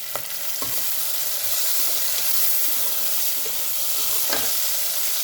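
Green chillies and curry leaves frying in hot oil for cabbage fry: a steady close sizzle with a few sharp crackles and stirring scrapes in the pan, moderately loud, with no voices.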